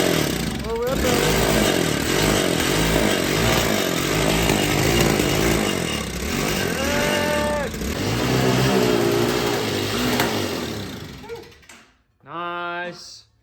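An ATV engine revs loudly and steadily while riding, with rising and falling pitch sweeps and excited voices over it, then cuts off near the end before a brief final burst.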